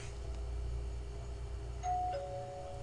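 A ding-dong doorbell sound effect rings out as two clear chime tones, one after the other, over a low background hum.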